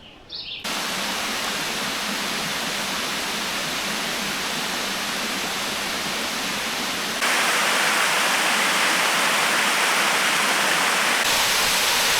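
Rushing creek water at Big Creek in Savage Gulf, a loud, steady broadband roar filling the whole stretch, nearby and continuous with no voices over it.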